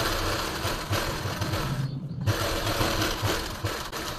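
A sewing machine stitches a pleated suit, running steadily and fairly loud with a rapid low rhythmic whir, pausing briefly near the middle before picking up again.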